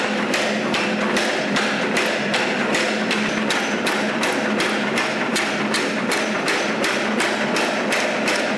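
A blacksmith hammers metal in an even, rapid rhythm, with sharp repeated strikes that land steadily and close by.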